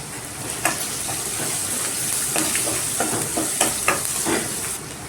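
Onions and green chillies sauteing in a pan for lemon rice, a constant loud sizzle with scattered sharp crackles and stirring scrapes, with no speech.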